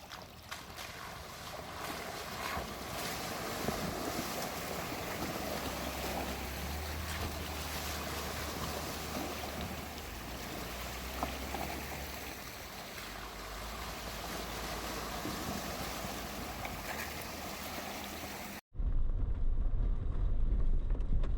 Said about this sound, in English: There were a few stream crossings thrown in as well.